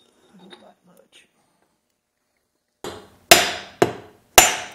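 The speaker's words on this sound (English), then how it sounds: "The heavier hammer worked better." A heavy hammer strikes a truck axle part on a square body Chevy 4x4 front axle build: one lighter tap, then three loud, sharp metallic blows with ringing decay, following faint low talk.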